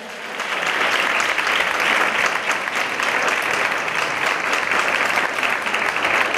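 Audience applause at a gala awards event for a singer and her guitarist: dense, sustained clapping from a large crowd, rising quickly and holding loud and even throughout.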